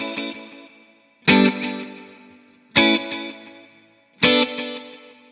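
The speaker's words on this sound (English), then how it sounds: "as a typical delay sound, let's hear what this sounds like" Electric guitar chords struck three times with a delay effect, each strum followed by soft echoing repeats that fade away before the next hit.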